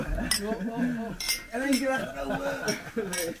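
Glasses clink repeatedly during a birthday toast, bright ringing taps at intervals mixed with people's voices and cheering.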